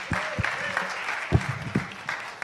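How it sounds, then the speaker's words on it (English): A church congregation applauds with hand claps for a pastor coming up to preach, a steady wash of clapping with a few sharper claps standing out, and voices mixed in. "Let's give him a big hand clap."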